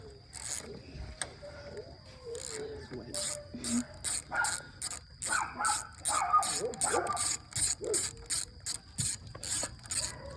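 An engine with faulty valves cranks in a rapid rhythmic series of bursts, turning over repeatedly without catching, with a dog barking once nearby.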